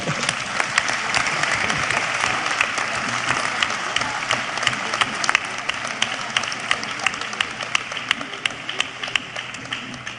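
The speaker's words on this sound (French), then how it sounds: "on peut applaudir les 4 finalistes." Sustained, dense applause from an audience greeting four finalists at a presentation on rebuilding Haiti's National Palace. Steady clapping fills the whole stretch at an even level.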